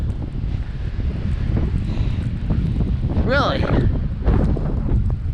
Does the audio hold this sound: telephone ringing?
no